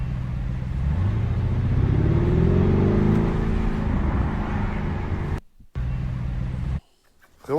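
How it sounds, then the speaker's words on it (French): A Lamborghini Urus engine revving loudly up close, the pitch swelling and falling over several seconds before cutting out abruptly with brief gaps of silence. "Ça, c'est Urus."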